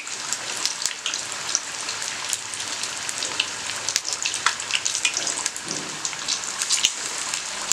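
Jackfruit bajji frying in hot oil until golden brown, a steady dense crackling sizzle with bursts of popping spatter throughout, close and continuous with no talk.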